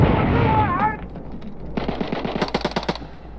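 Rapid automatic gunfire rattles in close, loud bursts in the Call of Duty: Modern Warfare II (2022) campaign mission Dark Water. A voice speaks before the shots.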